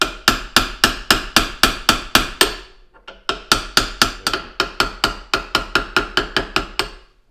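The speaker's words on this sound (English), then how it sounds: "I'm going to use my brass hammer" Steady metallic brass hammer taps drifting a steel sight on a 1911 pistol, about thirty sharp strikes in two runs with a brief pause between, close and loud.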